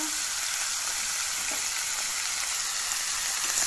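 Pumpkin and potato frying in a pan, giving a steady, loud, close sizzle that carries on unbroken throughout.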